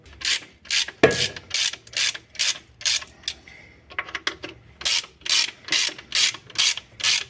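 Ratchet wrench tightening the clutch on an Alfa Romeo Giulietta during gearbox and clutch replacement, giving a loud, close run of evenly spaced clicking strokes with a brief pause of rubbing metal in the middle.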